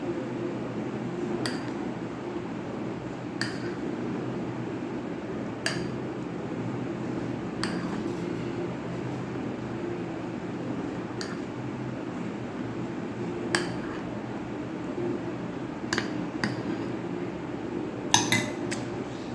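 Sugar being mixed into mango mousse in a bowl, with sparse clinks of a utensil against the bowl every couple of seconds over a low steady hum of a fan or air conditioner.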